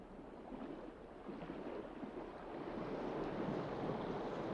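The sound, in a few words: ocean waves and currents on a coral reef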